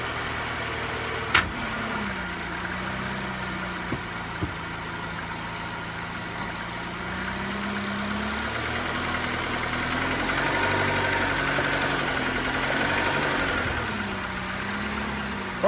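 A 2016 Nissan Sylphy/Sentra with the MRA8DE engine runs steadily close to the microphone while the car reverses, a low droning hum with a rising and falling pitch and a couple of sharp clicks early on.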